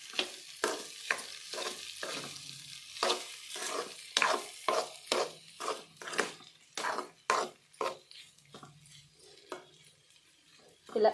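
Cabbage curry frying in a pan, stirred with a spoon in quick repeated scraping strokes that come in a loose rhythm over a soft sizzle.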